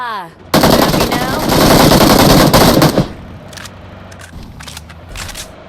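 Automatic weapon fire from a video game shootout in an apartment, a loud sustained burst of rapid shots for about two and a half seconds, then scattered quieter shots, with a player's voice briefly heard.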